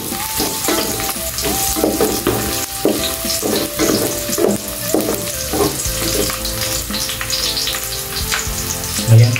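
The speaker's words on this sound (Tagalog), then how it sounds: "Kulo na po yung ating mantika, ilalagay na po natin ang garlic. Haluin hanggang sa mag-golden brown." Garlic fries loudly in hot oil, stirred with a utensil in rhythmic scrapes and taps over a constant close sizzle, no voices.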